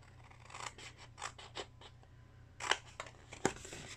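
Scissors cut pieces of material at a table, giving a quiet run of crisp snips in an uneven rhythm. Two sharper, louder cuts come near the end.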